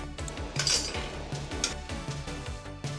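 A metal fork clinking and scraping against a cooking pot as it is fished out during chickpea curry preparation, a quick run of close, bright clinks over a low simmering background.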